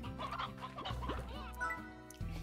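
Rooster in a farming video game, clucking repeatedly in short bursts, fairly close and clear over a steady low background hum, with no talking.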